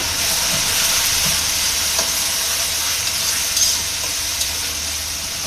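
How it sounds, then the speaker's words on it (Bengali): Spice masala sizzles and fries in hot oil for a broiler chicken roast, a loud continuous hiss with occasional stirring scrapes, no talking. "মশলাটা একটু তেলে ভেজে নিব।"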